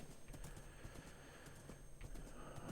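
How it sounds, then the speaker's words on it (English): Horse hooves clip-clop in Minecraft as the horse runs, a quick, light rhythmic patter of hoof taps over a soft, busy game background, faint throughout. "You're quite a speedy horse"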